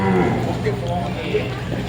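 Grey Brahman beef cattle low in a deep, drawn-out moo at a cattle show, with crowd chatter and voices around them.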